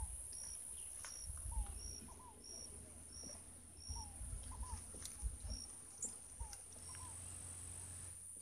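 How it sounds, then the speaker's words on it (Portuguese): Birds call and sing at the Banabuiú reservoir, with repeated short chirps and whistles spread through the clip over a steady insect drone, wind, and low outdoor rumble, fairly faint and distant. "Canto dos pássaros."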